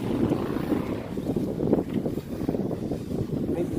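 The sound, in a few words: strong wind blowing on microphone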